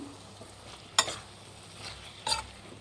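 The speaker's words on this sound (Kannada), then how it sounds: "ಚೆನ್ನಾಗಿ ಮಿಕ್ಸ್ ಮಾಡ್ಕೊಳ್ಳಿ" A spoon stirs vangi bath mixture with tamarind and dry grated coconut in a pan, making two distinct close scraping strokes over a soft sizzle; no talking.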